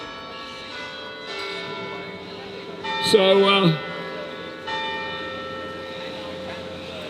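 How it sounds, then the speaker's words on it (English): Church bells ringing the Westminster chimes at Sydney Town Hall, a bright pealing run of tones rising briefly over crowd murmur and nearby talk at an outdoor gathering. "the chimes of Westminster,"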